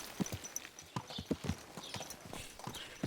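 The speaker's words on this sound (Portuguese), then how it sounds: "Você tá vendo passar de cavalo aqui?" Horses clip-clop past in Kingdom Come: Deliverance II, their hooves landing in an irregular, fairly faint patter on the ground with no talking over them.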